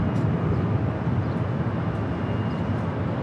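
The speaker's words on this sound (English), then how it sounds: "We just had Norse Flight 311 touchdown on the south side coming in from Paris on the 787-9 Dreamliner" Norse Boeing 787-9 Dreamliner touching down on the south side at LAX, heard as a steady broadband jet roar at moderate distance with no voices.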